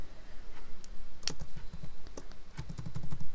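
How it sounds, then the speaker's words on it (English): Keys clatter on a computer keyboard in irregular bursts of quick, close clicks with brief pauses between, sounding alone at a fairly quiet level. "you can see how I'm typing here"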